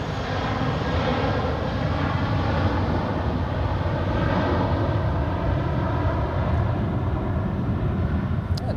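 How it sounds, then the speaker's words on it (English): A Eurowings airliner bound for Hamburg accelerates for takeoff on runway 28 at Zurich Airport, a loud, continuous jet engine roar with broad rumble, sustained and steady across the whole stretch. "the Eurowings flight to Hamburg is accelerating on runway 28"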